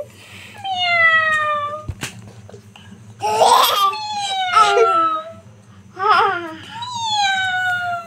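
A kitten meows four or five times in separate rising-and-falling bursts, close and fairly loud, with short quiet gaps and a low hum running underneath.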